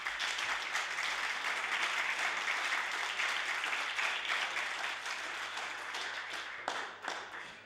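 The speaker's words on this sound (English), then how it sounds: "We can join in giving him a round of applause." Members of a provincial House of Assembly give a steady round of applause, moderately distant and continuous, tapering off near the end with a few scattered claps and desk taps.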